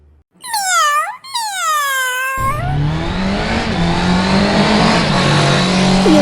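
A cartoon cat gives two loud, drawn-out whining meows close up, then a steady engine-like roar with a humming drone takes over and continues to the end.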